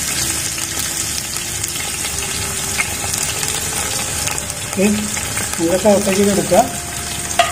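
Onions hit hot oil in a pan for semiya biryani, a steady close sizzle with occasional stirring, while a person speaks briefly over it near the end.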